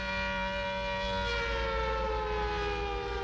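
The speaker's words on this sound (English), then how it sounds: "It's the special effects siren." A steady, loud siren wail sounds as a special effect in a 1950s giant spider monster movie, holding one sustained tone throughout with no break.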